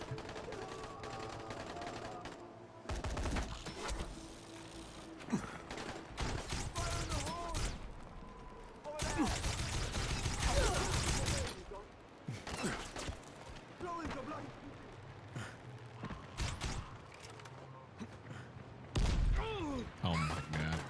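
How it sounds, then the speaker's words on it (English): Grenade blasts and gunfire in Mortal Online 2 combat, a series of loud bursts and thuds scattered through the stretch with a dense cluster in the middle, mixed with voices talking over the chaos. "How many grenades do these guys have?"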